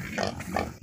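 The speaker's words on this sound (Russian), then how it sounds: "Вон мини-пиги." Mini pigs grunting twice in short, close bursts on a farm with sawdust bedding, each grunt low and rough against a steady background.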